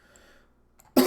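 A single short, loud cough bursts out at the very end after near silence.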